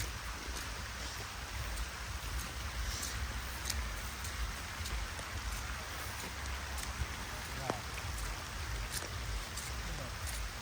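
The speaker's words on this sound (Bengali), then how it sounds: "এটা খুব সাংঘাতিক একটা বৃষ্টি হচ্ছে এখানে" Heavy rain pours steadily at an outdoor fishing spot while rainwater runs off nearby, making a dense, constant close hiss with scattered louder drops throughout.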